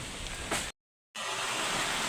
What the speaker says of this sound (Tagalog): Kusog laki sa hangin di sa Masbate maski ang bagyo to sa pinakaibaw.